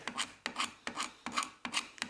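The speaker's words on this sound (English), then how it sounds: "the ends of all of the spindles got scraped using either a card scraper or a knife blade" Rhythmic rasping strokes of a card scraper across the end of a wooden Ercol Windsor chair spindle, about five even back-and-forth passes, close and dry with no talking.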